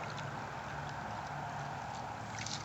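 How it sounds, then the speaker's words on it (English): A woman gently paddles a paddleboard across calm water. Soft, faint dips and swishes of the paddle sit over a quiet, steady background of lapping water. "As she paddles along in her little paddleboard, she is paddling very gently so as not to fall off."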